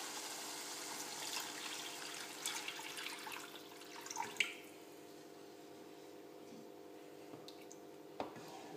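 Cauliflower cooking broth is poured into a sauce in a kitchen, giving soft, faint splashes and drips, with a few small clinks, in a quiet room.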